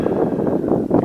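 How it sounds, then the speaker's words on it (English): Gusty wind buffets the microphone outdoors beside a 1974 Ford F350 truck, a continuous low rumbling roar with uneven surges and no clear speech. "you probably can't hear me because of the freaking wind"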